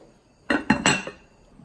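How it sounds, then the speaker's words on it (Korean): A metal lid goes onto a cooking pot of simmering soup with three quick, close clanks in a row, followed by a brief settling rattle, then quiet. "뚜껑을 덮고 끓여보겠습니다"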